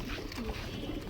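A home-bred pigeon gives a soft, low coo close by, a single brief throaty burst lasting about a second.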